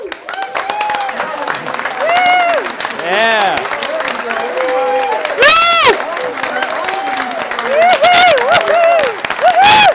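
A church stake celebration crowd claps, cheers and calls out loudly over about ten seconds, with excited shouting voices and a louder burst of cheering midway.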